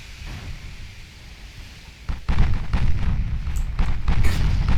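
Naval gunfire in Ultimate Admiral Dreadnoughts, with 8-inch guns booming in a sea battle against battleships and battlecruisers, a low rumble swelling into several heavy, loud blasts in the second half, with no talking.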